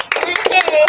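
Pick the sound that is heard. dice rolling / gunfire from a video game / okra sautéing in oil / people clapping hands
people clapping hands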